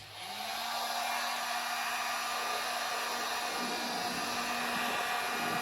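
A heat gun blows a steady, loud airflow with a faint whine as it warms vinyl wrap on a corner, running continuously and alone without any talk.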